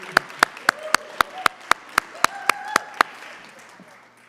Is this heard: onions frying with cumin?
no